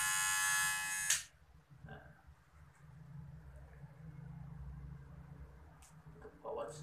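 A Kemei 2600 electric hair clipper hums steadily at close range, a loud burst at the start then a lower, rough buzzing drone that continues throughout.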